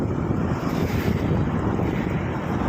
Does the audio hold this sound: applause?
no